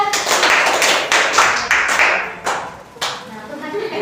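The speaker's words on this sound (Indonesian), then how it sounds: "tepuk tangan untuk pindah" Students in a mathematics micro-teaching class clap their hands in a group, several uneven bursts of claps about once per half second, close and fairly loud, with a voice talking in between.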